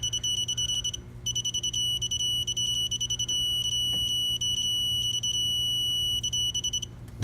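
A digital torque wrench beeps high and electronic, pulsing rapidly and continuously, nearly unbroken for several seconds, close and loud over a low background hum, while tightening during a 5.3L engine rebuild.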